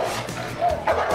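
A cartoon dog barks and yips in two short bursts, fairly close and loud, with a brief whimpering edge, in an animated episode.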